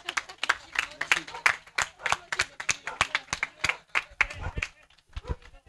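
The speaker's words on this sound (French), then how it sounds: "vous pouvez les applaudir parce qu'on a toujours besoin de bénévoles." Scattered, uneven hand clapping from a modest outdoor crowd at a cani-cross race podium, distinct individual claps rather than a dense roar, fairly quiet and tapering toward the end.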